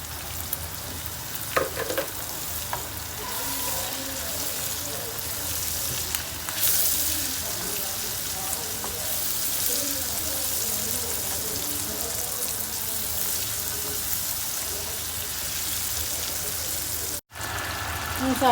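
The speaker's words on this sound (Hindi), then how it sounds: "मसाला हमारा अच्छी तरह भून चुका है" Salt, turmeric, red chili and coriander powder fry in oil for a desi tarka for dal maash, a steady close sizzle with occasional stirring scrapes and brief clatters, and a voice talking at times.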